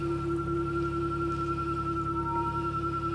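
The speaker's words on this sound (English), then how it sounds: "It's the sound of a magnificent Tesla." A 2020 Tesla Model Y emits a steady, eerie electronic hum with sustained pure tones, a continuous low drone throughout, fairly quiet with no talking.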